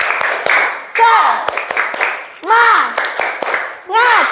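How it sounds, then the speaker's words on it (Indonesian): A classroom of young children performs a rhythmic spirit clap during a microteaching lesson: sharp clap patterns alternate with short chanted shouts from the group, close and lively. "Tepuk semangat."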